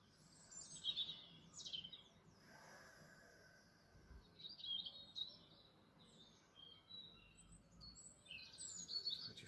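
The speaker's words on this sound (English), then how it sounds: "I just love the sound of the birds in the spring." Several birds chirp and tweet in short bursts in spring, some fairly close, against a quiet outdoor background.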